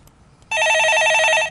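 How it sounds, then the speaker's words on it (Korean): A telephone rings with one loud, steady electronic trill lasting about a second on a stock market call-in show, with no talk over it. "전화 받아보겠습니다"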